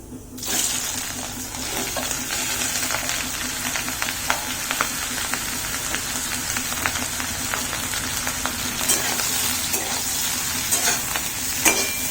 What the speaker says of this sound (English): Gas in low flame. Let the mushroom get fried nicely.